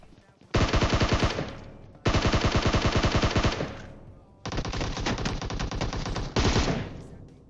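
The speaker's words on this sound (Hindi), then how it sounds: "सारी की सारी गोलियां मेरे अगल बगल से जाती है" Sustained bursts of automatic gunfire in the mobile battle royale game PUBG Mobile, three long rapid volleys separated by brief pauses, loud and close.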